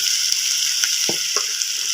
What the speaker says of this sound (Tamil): நல்லா கலக்கி விட்டுக்கலாம்